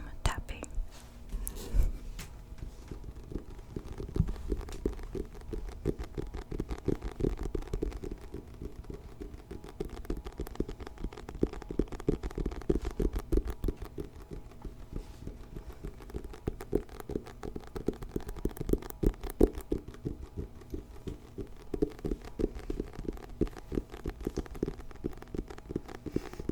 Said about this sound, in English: I'm gonna let my nephew warm our ears up with some tapping